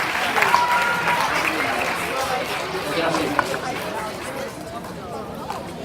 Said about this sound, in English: Ladies and gentlemen, a round of applause for these week's winners.